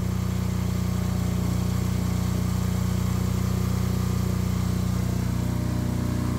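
A PHILKING 10 kVA diesel generator in an enclosed housing runs at a steady idle, its dense, even engine drone continuous and close throughout with no pauses.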